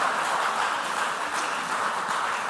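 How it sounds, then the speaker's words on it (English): Crowd at a school quiz competition giving a team a round of applause: dense, continuous clapping, steady and fairly loud throughout, with no voices over it. "Can we give them a round of applause?"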